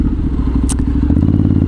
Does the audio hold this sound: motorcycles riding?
yes